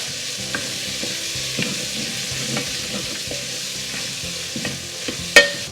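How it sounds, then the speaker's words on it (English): Chorizo meat with its casing removed sautés in a pan for a one-pot chorizo rice, a steady sizzle broken by soft stirring scrapes and a sharper clank of the spatula near the end. "Now let's saute this together."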